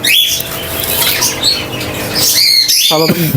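White pet birds at a bird market give loud, harsh squawks and chirps that keep going with no pauses, close and busy, with more bird calls crowding in near the end.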